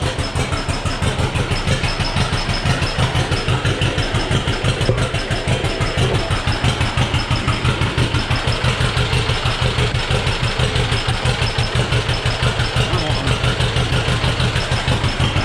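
An engine runs a little lean while warming up in cold weather, powering a lag bed lumber planer. It is a loud, close, steady rhythmic chugging idle that holds for fifteen seconds with no speech.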